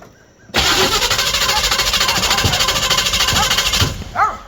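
A small block Chevy engine cranks briefly and then catches, settling into a loud, steady, close running roar for several seconds before cutting off sharply.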